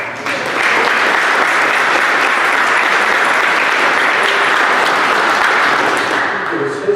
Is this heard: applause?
yes